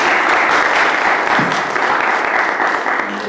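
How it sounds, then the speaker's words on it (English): A church congregation gives a round of applause, a loud, full wash of clapping that holds steady and fades slightly toward the end. "Give him a round of applause,"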